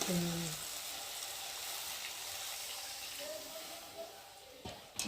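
Water is poured into spices frying in a pan, giving a loud, steady hiss that fills the whole stretch, with a couple of faint clinks near the end.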